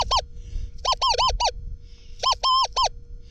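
Short electronic warbling beeps from a metal detector with a Manticore M-8 coil sound in quick bursts, one alone, then a run of four, then a cluster of three, over a low background hum.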